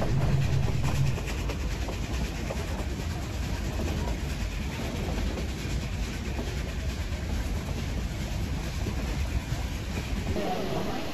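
Narrow gauge steam train number 463 rolls past near Tacoma, a close, continuous heavy rumble of railcars with a dense clatter of wheels on track sustained throughout at steady loudness.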